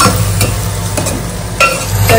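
Onion stirred and fried in a pan until browned, loud continuous sizzling with rhythmic scraping strokes of a spoon, very close, and no talking.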